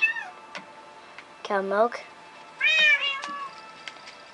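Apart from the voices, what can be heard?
cats meowing in the video game Minecraft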